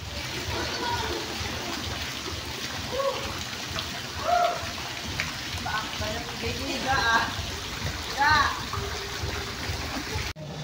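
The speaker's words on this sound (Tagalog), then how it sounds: "Ito naman yung shower nila dito guys sa resorts nito." A resort shower runs with a steady, broad hiss of falling water for about ten seconds, close and even, while a voice talks faintly over it.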